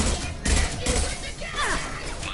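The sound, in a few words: gunfire in a PS4 video game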